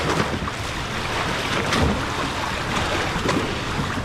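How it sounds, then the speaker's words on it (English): Big waves slapping a small boat on a river near Maclellan Island, Chattanooga, Tennessee, with splashes and bumps against the hull amid wind rumble, close and loud. "Big waves."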